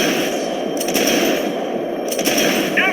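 Gunfire in the video game Max Payne 3 crackles in loud, sharp bursts over a dense, roaring background of game action, with a few clustered shots standing out near the start and middle.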